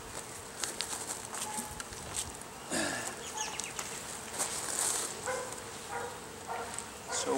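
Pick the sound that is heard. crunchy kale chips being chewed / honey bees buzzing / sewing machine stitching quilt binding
honey bees buzzing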